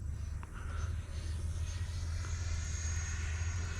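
A Freewing F-4 Phantom 8S RC jet flies at about 60% throttle, a steady whooshing engine drone heard from a distance, continuous and fairly faint, with no talking.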